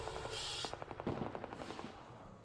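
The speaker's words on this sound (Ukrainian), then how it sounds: "Не, вони між собою стріляються, походу." Gunfire in the Arc Raiders video game, a far-off exchange of shots between other players: rapid bursts of quiet, muffled cracks in steady rhythm over a constant background hiss.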